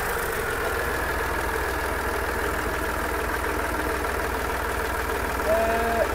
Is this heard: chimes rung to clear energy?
no